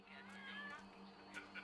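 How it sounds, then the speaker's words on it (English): A cat in the Max Payne 3 video game gives a faint, drawn-out meow followed by a couple of shorter cries, quiet and distant beneath a low steady background hum. "I definitely heard a cat in the video game."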